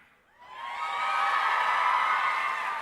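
A large audience at a live conference event swells into loud, sustained cheering and whooping, rising after a quiet start and holding steady as a dense wall of crowd noise.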